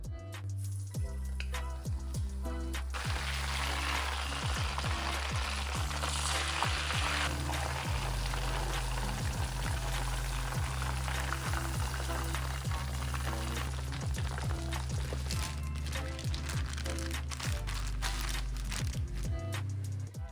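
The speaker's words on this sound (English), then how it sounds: "we're coating the chicken in potato starch and giving it a quick first fry before freezing" Karaage chicken coated in potato starch frying in hot oil, a steady broadband sizzle and crackle running continuously, close and fairly loud, with low kitchen hum beneath and no talking.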